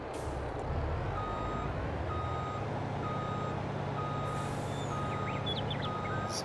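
Reversing beeps from a truck pulling a Fliegl flatbed semitrailer in Farming Simulator 22, a steady run of evenly spaced tones over a constant low engine hum, with a brief air-brake hiss partway through.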